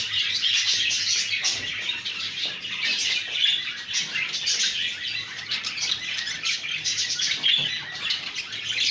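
Caged Japanese quail calling continuously, with dense overlapping chirps and squawks and some wing flutters, loud and close throughout without any talk.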